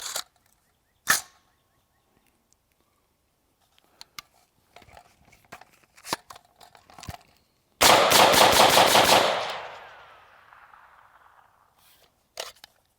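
A POF Puritan piston-driven AR-15 rifle fires a fast burst of about ten rounds, loud and close, ringing out into a decaying echo, with a few scattered clicks and handling sounds before and after.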